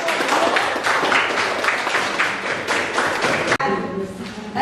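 A classroom of students applauds a student group after its presentation, a dense burst of clapping that stops abruptly, then a brief murmur of voices.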